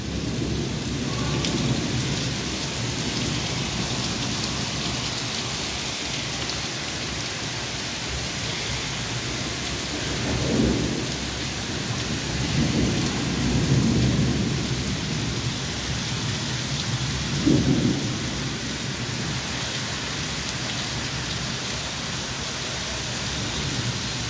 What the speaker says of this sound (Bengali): ঝড় শুরু হয়েছে।